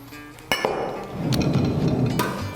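Canned whelks tipped into a mixing bowl for a spicy whelk salad: a few sharp metallic clinks spaced over a couple of seconds, with soft wet shuffling of the pieces between them, close and moderately loud.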